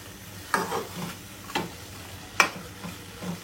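Country chicken meat is added to fried potatoes in a pan, giving a low, steady sizzle with several distinct scraping stirs at irregular intervals, close and clear with no talking.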